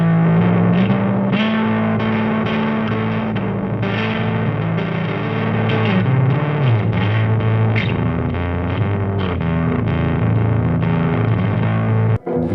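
Electric guitar runs through a mid-gain overdrive pedal, sustained distorted chords and ringing notes played steadily and loud for several seconds before a sudden cutoff, with no voices.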